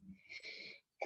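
A single sneeze, close and fairly loud, a breathy burst lasting most of a second, followed by a short pause and a quick sniff.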